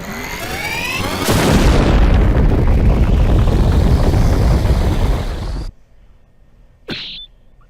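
Bahamut's summon attack in Final Fantasy Tactics strikes with a loud, roaring blast that swells and rumbles steadily for about four seconds, cuts off abruptly into silence, then gives one short, sharp burst near the end.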